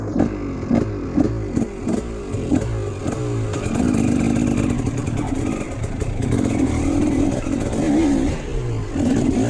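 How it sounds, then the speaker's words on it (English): A dirt bike engine, one that stalls when the clutch is held in gear, runs close by with a steady rough idle, a few pulsing revs at the start and sustained mid-pitched droning. "So my bike still turns off when you're holding the clutch in gear."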